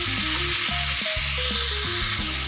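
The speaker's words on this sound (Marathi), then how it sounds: "तेलामध्ये दोडकं ना छान असं 1-2 मिनटं परतून घ्यायचं" Chopped ridge gourd sautés in hot oil in a pan, a loud, continuous sizzle and crackle close up, with no voices.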